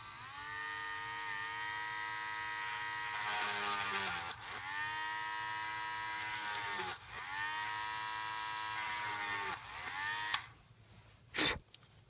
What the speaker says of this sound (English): So if you're going to use a Dremel,